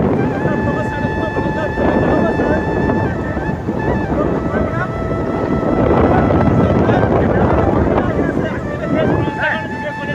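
Heavy wind buffeting a microphone while riding a motorbike outdoors, a loud continuous low roar with engine hum underneath and a faint horn-like tone, steady for the whole stretch.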